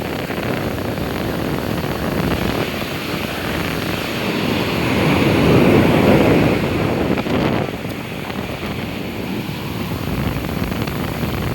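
Sea waves surge at Puri beach where people are bathing in open water, a broad continuous roar that swells to a louder crest midway and then eases, with wind buffeting the microphone and no speech.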